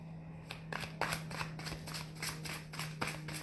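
A deck of tarot cards being shuffled by hand, a series of quick papery riffles and slaps in an irregular rhythm over a steady low electrical hum, close and fairly quiet with no talking.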